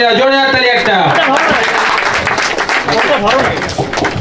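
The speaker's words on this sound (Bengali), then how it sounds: "জোরে হাততালি, জোরে হাততালি একটা" Audience at a pigeon lovers programme breaking into loud, dense clapping that swells and keeps going, with a raised voice calling out over its opening moments.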